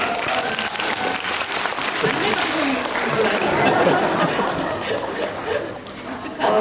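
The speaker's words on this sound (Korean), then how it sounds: "배우 여러분께 축하의 말씀을 박수를 보내드리고 싶습니다" A theatre audience at a preview screening applauds the cast, dense sustained clapping that swells in the middle, with crowd chatter and voices mixed in.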